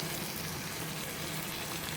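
Aloo gobi, cauliflower and potatoes, cooks in a pan, giving a soft, steady sizzle that stays even and quiet throughout, with no voices.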